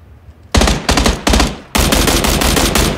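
Loud, close gunfire in the battle royale game PUBG: Battlegrounds: a few short rapid bursts separated by brief pauses, then a longer sustained stream of automatic fire.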